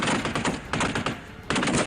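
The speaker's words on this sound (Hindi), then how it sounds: "एक के बाद एक इतनी गोलियां दागी गईं कि वीरान इलाका गोलियों की गड़गड़ाहट से गूंज उठा।" Automatic gunfire in rapid bursts during an army exercise in a desolate area of northern Jordan, loud and close, three dense volleys separated by brief lulls.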